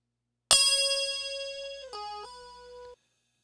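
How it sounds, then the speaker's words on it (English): A single ride cymbal sample strikes once with a bright ringing attack, then sustains and slowly decays over a few seconds with a shimmering, shifting tone, heard alone and close. "I add a ride cymbal."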